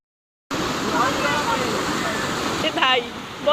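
Floodwater surging in with a steady, loud, broadband rushing roar that begins abruptly and continues without a break, with a brief voice rising over it near the end.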